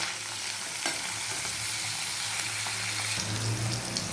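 Paneer pieces frying in an open pan, browning for chilli paneer, with a dense, steady sizzle that holds close and loud throughout, slightly intensifying near the end.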